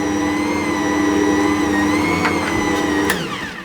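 An Ankarsrum stand mixer kneads Detroit-style deep pan pizza dough with a steady, loud motor whir and hum, then starts winding down near the end.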